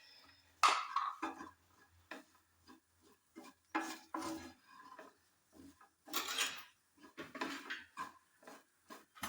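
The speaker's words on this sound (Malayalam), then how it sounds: "നല്ലോണം ഒന്ന് ഇളക്കി കൊടുക്കാം." A spoon stirs garam masala into a cutlet mixture in a pan, with irregular scraping and clinking strokes, some sharp and louder, separated by brief quiet gaps.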